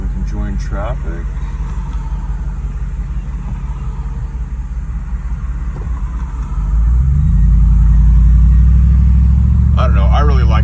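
A 2004 Lexus GX470 with an R4T catback exhaust rumbles low at first, then its exhaust note swells into a louder, deeper drone as it accelerates, with brief talk near the start and end.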